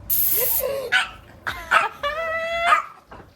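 A brief burst of aerosol spray hisses, then a dog barks and yips several times nearby.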